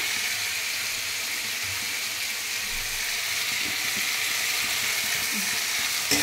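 Mustard paste stirred into boiled potatoes in a pan makes a steady, soft frying hiss, with faint low scraping from stirring underneath.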